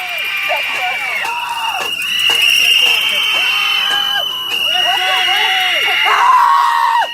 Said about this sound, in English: Stop screaming in my ear.